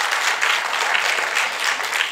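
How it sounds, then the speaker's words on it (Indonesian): A church congregation at a Sunday worship service bursts into loud, dense applause, many hands clapping together in a sustained, pulsing wash with no voices above it. "Tepuk tangan bagi Tuhan."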